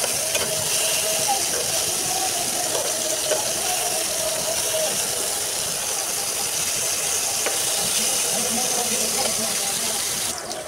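Eggplant slices fry in hot oil in a pan, giving a steady, close, loud sizzle that holds evenly throughout, with faint clinks now and then.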